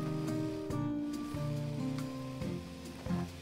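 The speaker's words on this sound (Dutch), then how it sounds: "Het gaat regenen." Rain falling in the farming video game Farm Together 2, a soft steady patter under the game's tonal background music, with no talking.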